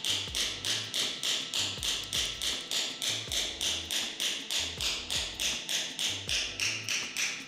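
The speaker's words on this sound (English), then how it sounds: "You should hold the chisel at an angle of 30 to 60 degrees to the surface of the stone." A tooth chisel struck by hand against stone gives a steady series of about twenty-five sharp, close taps in an even rhythm, each a bright metallic click with a short thud, heard alone without talk.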